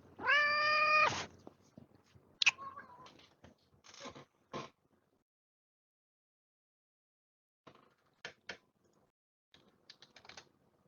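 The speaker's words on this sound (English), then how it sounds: "My cat wants attention all of a sudden." A pet cat meows for attention with one long, rising-and-falling cry near the mic and a shorter meow after, followed by scattered computer keyboard clicks and long quiet gaps.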